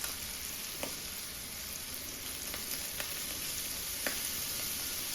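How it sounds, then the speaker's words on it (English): Mild sausage browning in a hot skillet, with flour added, gives a steady, even sizzle throughout, broken by a few faint crackles and pops. "start by browning a pound of mild sausage in a hot skillet"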